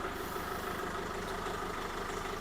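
A diesel tow truck engine runs with a steady, even drone. The engine has water in its fuel system and has trouble starting. The sound is moderately close and there is no talk.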